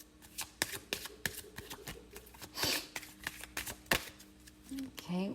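Tarot cards shuffled by hand in a quiet room: a rapid run of crisp, riffling flicks and soft slaps, close and fairly loud, with a brief murmur at the end.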